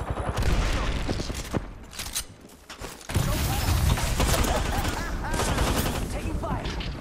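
Gunfire in a video game: loud, dense bursts of rapid shots and automatic fire crackle nearby, with a brief lull before the shooting resumes, under faint in-game voice chatter.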